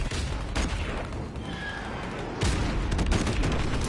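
Airstrike explosions in a Call of Duty match, a barrage of heavy booms and blasts layered over constant battlefield noise, with a louder burst of impacts near the end and no speech over it.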